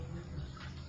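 Water is poured into flour in a bowl for roti dough, a short soft trickle and splash heard close up, brief and fairly quiet.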